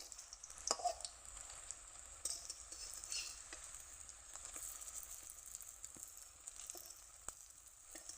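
Quiet, steady sizzling of spinach and shrimp fritters frying in hot oil, with faint spatters and a few soft clicks of a utensil.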